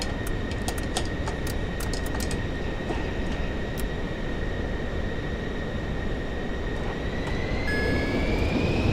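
Aircraft engine in Microsoft Flight Simulator 2024 running with a steady droning roar and a whining tone that rises toward the end as throttle increases to turn, with faint clicks early on.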